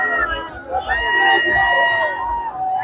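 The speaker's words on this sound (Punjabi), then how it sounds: "ਭੰਗੜੇ ਪਾ ਕੇ ਸੈਲੀਬ੍ਰੇਸ਼ਨ ਕਰਕੇ ਇੱਥੇ ਇੰਜੋਏ ਕੀਤਾ ਜਾ ਰਿਹਾ ਹੂਟਿੰਗ ਕੀਤੀ ਜਾ ਰਹੀ ਹੈ" A New Year's crowd in Jalandhar cheers and hoots with lively shouting and babble, continuous and fairly loud throughout, with whoops rising above the general noise.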